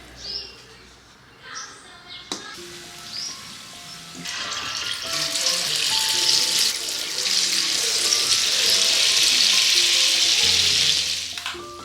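Ground onion and garlic paste hitting hot oil in a pot with warm water added, breaking into a loud, steady sizzling hiss that swells and holds for several seconds after a few clatters.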